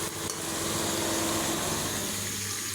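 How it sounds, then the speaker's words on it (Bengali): Hot water being poured into a pan of chicken curry, a loud continuous gushing and splashing close by, steady throughout the short stretch with no speech. "এখন দিয়ে দেবো পানি।"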